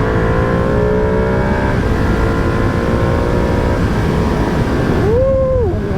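A Ducati Panigale V2 motorcycle engine accelerating hard on a road, loud and close throughout, with rising and shifting engine tones and a sharp rev sweep near the end.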